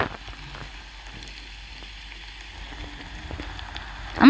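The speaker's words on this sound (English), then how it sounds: "Ay, ay, ay, it's raining." Soft, steady rainfall in the Roblox game Brookhaven RP, a faint continuous hiss running throughout with no voices.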